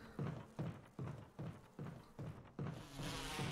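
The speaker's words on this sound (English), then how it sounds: "But what about the bees here?" Bees buzz in the Resident Evil video game, a repeating drone that pulses in about seven even bursts roughly every half second, fairly loud and close with no talk over it.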